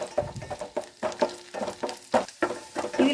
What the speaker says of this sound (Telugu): సన్నగా తరిగి పెట్టుకున్న ఒక స్పూన్ వెల్లుల్లి ఇవి కొద్దిగా ఫ్రై అవ్వాలి వెల్లుల్లి ముక్కలు